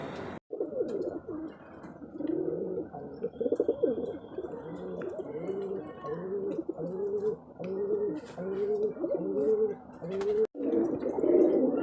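Pigeons cooing repeatedly and close by while feeding their chicks, a steady run of low throaty rolling coos in a rhythmic series, with brief faint chirps and a couple of abrupt gaps, no voices.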